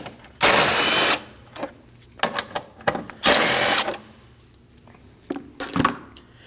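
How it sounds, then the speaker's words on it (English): Ratchet with a 10mm socket removing two bolts from the intake of a 2011-2016 Kia Optima: two long loud bursts of rapid clicking, each followed by shorter ticks and clunks of the tool and bolts. "Using a 10mm socket, take these two bolts out."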